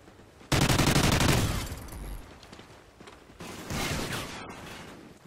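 A minigun death machine in Call of Duty Ghosts fires a dense, rapid burst up close, fades, then spins up for a second, slightly quieter stream of fire.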